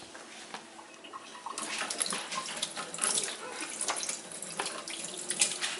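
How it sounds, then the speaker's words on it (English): Tap water running over a sheet of spring roll rice paper as it is rinsed, a soft splashing stream that grows busier and more spattery partway through, quiet and close. "Rinse it with water."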